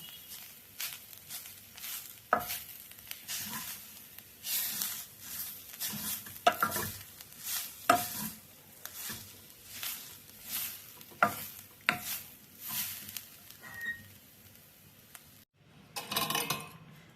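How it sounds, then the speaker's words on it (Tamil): Grated coconut roasting in a pan over a low flame, stirred steadily: a soft, continuous sizzle under repeated scraping strokes of a spoon against the pan, close and moderately quiet. "நல்ல சிம்ல போட்டு அடு அப்படியே வறுத்து எடுத்துருவோம்"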